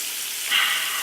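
Bacon fries in a pan for a BLT sandwich, giving a short, steady sizzling hiss that swells slightly midway, close up and with no voices.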